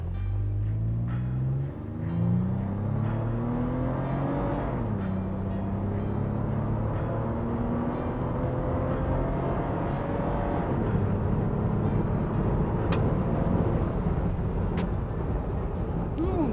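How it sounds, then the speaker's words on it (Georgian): A Toyota FJ Cruiser Carbon Edition accelerating from standstill toward 100 km/h, its engine note climbing steeply in pitch through the gears, then droning loudly and steadily from inside the cabin. "დავიწყოთ, ნახოთ ამ მანქანის აჩქარება 0-დან 100-მდე."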